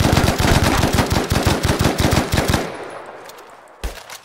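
A favorite gun in the Battlefield Firestorm battle-royale game fires a loud, close, rapid automatic burst that runs for a couple of seconds. The burst then cuts off into a fading ringing tail, with one more sharp shot near the end.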